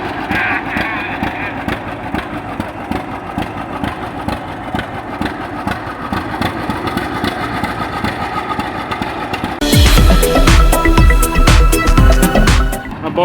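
An antique tractor engine idles in a yard with a steady low, even chug, and a louder, harsher burst of engine rumble and clatter comes near the end.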